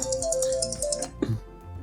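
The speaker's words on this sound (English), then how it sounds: "So it should be ringing momentarily." A phone call rings through Ray-Ban Meta smart glasses, a short repeating electronic ringtone tone heard close and clear with a faint tapping underneath.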